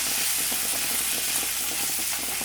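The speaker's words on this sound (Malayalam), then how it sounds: "ഇതിലേക്ക് ഇട്ട് കൊടുക്കുന്നുണ്ട് ഒന്ന് മിക്സ് ചെയ്ത് കൊടുക്കാം" Sautéed onion and peeled almonds sizzle steadily in a hot pan, with soft scraping from stirring running under the continuous frying hiss.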